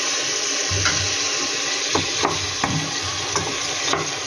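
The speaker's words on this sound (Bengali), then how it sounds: "চিকেনটা দেওয়ার পরে একটু নাড়াচাড়া করে" Chicken added to browned onions is stirred in a frying pan, a continuous sizzle broken by several sharp scraping and clinking strokes of the spoon against the pan, close up with no talking.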